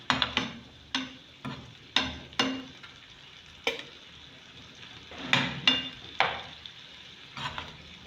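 Meat pie filling fries in a pan, with a series of sharp spatula scrapes and stirs coming in irregular clusters over a soft, quiet sizzle, and no voices.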